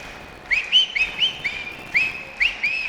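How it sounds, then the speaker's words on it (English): Sharp, high whistle blasts blown by a fan to rally the crowd at a high school boys varsity basketball game, about six short chirping toots in an uneven rhythm over a quiet gym background. "getting the crowd into the ball game with whistle"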